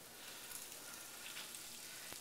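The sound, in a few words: chicken breasts sizzling in a frying pan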